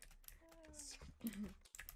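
Computer keyboard typing during a late-night online murder mystery game with friends, quick irregular keystrokes clustered through the short moment, mixed with faint tones and brief voice-like sounds.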